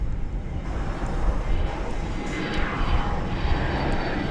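An American Airlines Airbus A321neo arriving from Phoenix at DFW Airport, a steady broad engine roar that holds at a moderate level throughout, heard from a distance with no talk.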